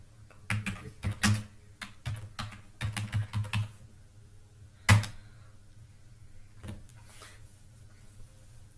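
Computer keyboard keys clacking in uneven bursts as commands are typed at a terminal, close and fairly loud, with pauses between runs and a sharper single keystroke near the middle, no voices.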